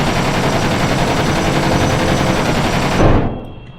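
Four guns on a video-game aircraft fire in barrage mode as a dense, loud, continuous rattle of rapid shots that cuts off abruptly near the end.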